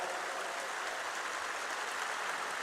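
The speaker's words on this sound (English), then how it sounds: "Yeah, some round of applause" Crowd applause at a Counter-Strike esports showmatch, PGL Krakow 2017: a steady, even wash of many hands clapping, fairly faint and distant, with no speech over it.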